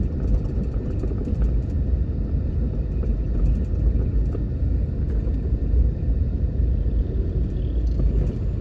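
Car interior rumble while driving through New Kingston, Jamaica: a steady, low engine and road drone that continues evenly with no one speaking.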